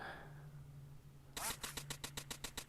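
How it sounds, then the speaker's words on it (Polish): Rapid electronic duck quacks from the Duck Hunt VR video game burst out in a regular string of about nine loud, evenly spaced calls, following a quiet stretch with a low steady hum. "O, niebieska kaczka."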